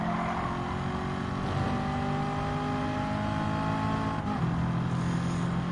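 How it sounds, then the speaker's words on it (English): A red Dodge Viper in Gran Turismo 7 racing on the Nürburgring Nordschleife: a steady, loud engine drone with a rising then shifting whine as it draws alongside and passes, other engines humming underneath. "Okay, just to be passed by on the red Dodge Viper"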